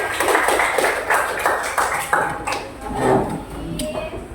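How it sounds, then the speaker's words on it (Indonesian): A group of fourth-grade pupils in a classroom claps hands in a quick, steady rhythm, the close, sharp claps repeating evenly with a few voices mixed in. "tepuk tangan untuk kita semua"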